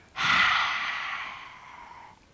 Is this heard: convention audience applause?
no